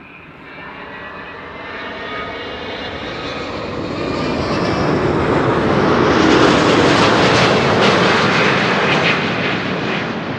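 A Delta Airlines Airbus A330neo airliner arriving at Amsterdam Schiphol Airport roars overhead, its jet engine noise swelling loud and broad, peaking as it passes close by and holding steady.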